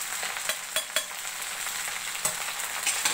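Okra with spices is stirred in a frying pan, a continuous sizzle broken by several sharp scraping clicks of the spoon against the pan.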